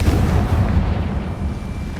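A Confringo spell explosion in the video game Hogwarts Legacy, a deep booming blast that rumbles heavily at first, then fades out over about two seconds.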